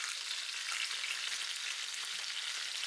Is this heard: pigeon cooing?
no